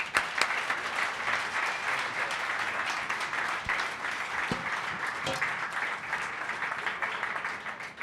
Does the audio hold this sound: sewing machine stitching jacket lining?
no